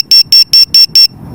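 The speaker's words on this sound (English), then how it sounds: "Yeah, buzzer's still working." Loud, shrill electronic beeps from the buzzer on a drone flight control board come five times in quick, even succession, then stop and leave faint background noise.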